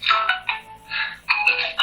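A phone notification chime sounds three times in short bursts, bright and fairly loud and close, with brief gaps between them.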